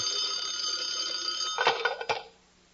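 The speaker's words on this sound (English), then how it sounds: "Suddenly the phone rings." Telephone ringing as a radio-show sound effect: a bright, sustained metallic bell trill that breaks into a couple of clattering knocks at the end, then falls silent.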